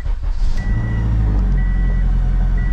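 A Honda CU2 engine with a newly installed clutch starts and settles into a loud, steady idle nearby, overlaid by a repeating electronic beep.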